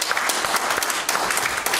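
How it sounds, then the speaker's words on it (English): Church congregation clapping during a Sunday service, steady dense applause from many hands filling the room throughout, with no talk over it. "Give him another hand clap this morning."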